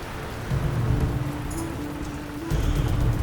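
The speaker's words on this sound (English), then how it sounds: "This storm just won't stop." Heavy rain pours steadily in a storm at sea, with low thunder rumbling in two loud swells, all without any voices.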